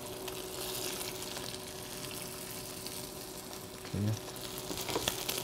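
Quail pieces frying skin-down in hot oil, a steady crackling sizzle with small pops throughout, close and continuous, while a person briefly speaks over it.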